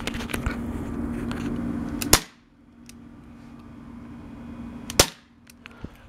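Two sharp, loud gunshots during outdoor target practice, spaced about three seconds apart, each cutting off a steady background hum, followed by a fainter click near the end.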